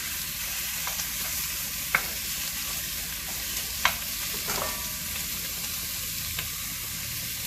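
Food sizzles in a 5-quart Lodge cast-iron Dutch oven with hot olive oil, a steady soft hiss broken by a few sharp utensil clinks against the pot.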